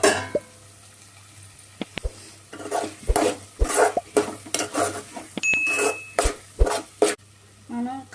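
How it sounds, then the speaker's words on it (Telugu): Bottle gourd curry being stirred in a pan, with repeated scraping and clinking strokes in uneven bursts, fairly close and moderately loud over a low steady hum, with no talk. "ప్లేట్ తీసి ఒకసారి మళ్ళీ కలుపుకుందాం."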